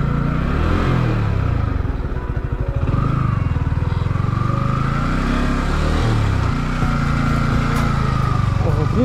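A motorcycle rides off-road along a slippery road, its engine droning steadily and close with rising and falling pitch throughout, while voices talk over it.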